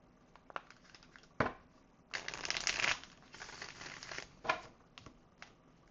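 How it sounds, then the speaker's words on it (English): A tarot deck is split and shuffled close by, with soft card riffles, crinkly slides and a few sharp snaps in short bursts, one longer riffle standing out in the middle. "I'm going to split the deck a little differently this time."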